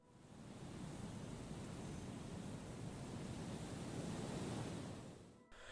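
Steady roar of ocean surf breaking on a coast near a fishing village in the game Disco Elysium, a dense continuous wash of waves that holds constant and then drops away at the very end.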